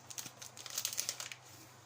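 Plastic bag of packaged cake mix crinkling and rustling in a home kitchen during baking, a short burst of close, light crackles with no talking.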